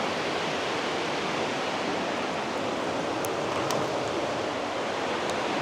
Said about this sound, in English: Definitely really loud at night because that's all you hear is the water